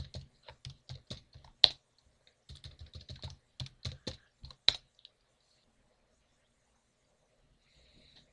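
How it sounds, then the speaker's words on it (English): Close keystrokes on a computer keyboard as a password is typed, quick irregular clicks in two short runs with a louder key hit in each, then silence. "we'll just type my password in again"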